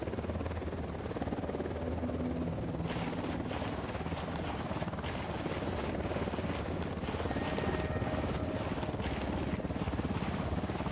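A helicopter approaches in the video game Ghost Recon Wildlands, heard as a dense, loud, steady rotor chop and whine that swells into a fuller roar partway through, with no voices.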